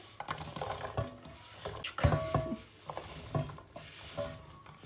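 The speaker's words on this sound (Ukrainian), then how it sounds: "ставлю я пательню і кидаю десь грам 50 масла викладаю яблучка" Diced apples cooking in roughly 50 g of butter in a frying pan, with a soft patter of sizzling and irregular clinks and scrapes of the pan and utensil.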